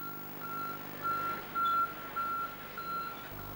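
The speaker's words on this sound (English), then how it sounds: "This vehicle has large driver mirrors and a reversing alarm." A site vehicle fitted with large driver mirrors sounds a reversing alarm: a series of evenly spaced electronic beeps, about five pulses, moderately loud over low engine rumble.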